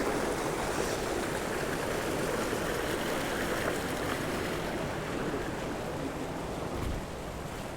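Steady, dense roar of rushing water from a waterfall on Iceland's Golden Circle, broadband and continuous, heard from close by with no voices.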